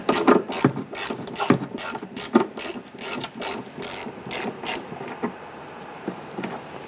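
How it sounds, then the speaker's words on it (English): A ratchet loosens and removes a 7mm screw between the rear quarter panel and bumper of a 2005-2010 Chrysler 300, giving a rapid, steady run of close pawl clicks that slows and thins toward the end. "there's a 7mm screw. Let's go ahead, loosen and remove that."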